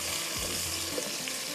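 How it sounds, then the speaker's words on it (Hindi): Onions frying in a pan, a steady close hiss of sizzling oil with faint bubbling, continuous and even throughout the short stretch. "यहाँ पर प्याज जो है हमारे फ्राई हो रहे हैं"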